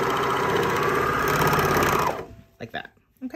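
Serger stitching and trimming a knit neckband seam, a loud steady whirring motor buzz for about two seconds that stops abruptly, followed by brief clicks and a short spoken remark.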